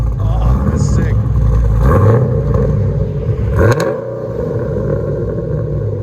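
A cammed Pontiac G8 with a 6.0L V8, long tube headers and muffler delete revs hard nearby, a loud, choppy rumbling idle swelling into sharp throttle blips, with a voice speaking over it.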